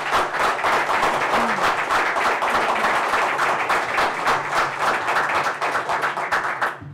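Audience applause at a Waterville city council meeting, steady dense clapping sustained for several seconds, fairly close and loud, with no talk over it.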